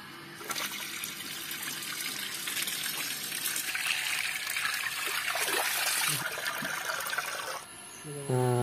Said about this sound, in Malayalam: ഇനി ഇതിലേ നമുക്ക് വെള്ളം നിറച്ചോക്കാം